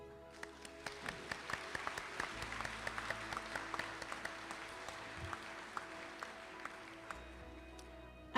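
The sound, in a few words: graduation audience applause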